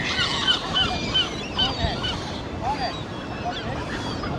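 Gulls or geese squabble and honk over chips by the Blackpool seafront, harsh overlapping calls running through the whole stretch over a busy outdoor wash of background noise.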